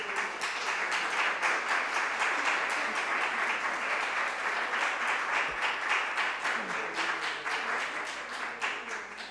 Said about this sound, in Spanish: damos un aplauso para terminar